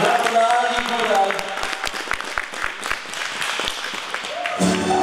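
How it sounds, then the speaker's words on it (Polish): Crowd applause and clapping at an ice rink in Puszczykowo for figure skater Aga Góral, with sustained hand claps and a few sharp louder claps, mixed with background music and voices. "Brawa dla Agi Góral"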